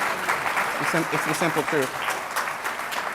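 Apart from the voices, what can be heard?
audience applause at a forum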